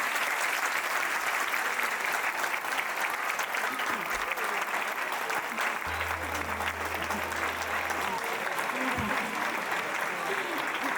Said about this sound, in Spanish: Vamos a recibirles con un fuerte aplauso.